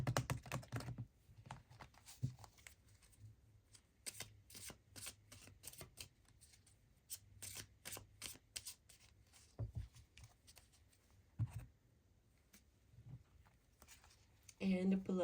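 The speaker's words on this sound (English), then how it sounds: "let's get you some more tarot cards from the Halloween" Halloween-themed tarot cards being shuffled and handled, with a run of quick, crisp riffling and flicking bursts at close range, separated by quieter pauses and soft handling noises.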